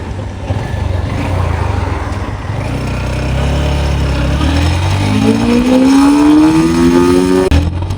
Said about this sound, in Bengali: হন্ডা এক্স ব্লেডে দেখবো কোন গিয়ারে কত স্পিড উঠে